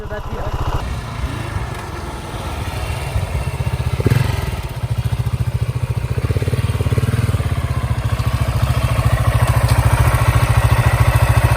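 A motorcycle with a dead battery, pushed to start, catches and runs with a rough, rapid thudding engine beat and clatter, loud and close, getting steadier and stronger toward the end.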